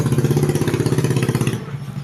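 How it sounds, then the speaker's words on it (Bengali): A motorcycle engine idles on a street with a steady, rhythmic low putter that chugs evenly throughout, then thins out and fades slightly at the very end. "এই মোটরসাইকেল দেখলো, মোটরসাইকেলটা ঘুরে আসবে দেখবেন।"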